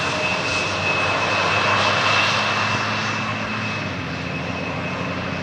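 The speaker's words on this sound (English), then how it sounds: "Another Embraer 175 from KLM, just touched down" A KLM Embraer 175 jet touches down on runway 18R at Amsterdam Schiphol, its engines a steady, loud roar with a faint high whine, holding constant throughout without voices.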